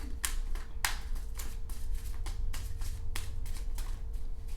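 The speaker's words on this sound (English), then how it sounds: "I'm gonna shuffle over this." Rapid riffle shuffling of a tarot card deck, repeated crisp bursts of flicking cards close up, steady rhythm with no voices.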